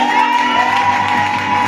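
A large church congregation cheers and acclaims loudly and continuously, with overlapping shouts and whoops close by.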